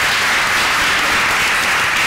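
An audience at a morning panel session on the adult-education curriculum in São Paulo's municipal schools applauds, a loud, dense and steady wash of clapping that fills the whole stretch without pause.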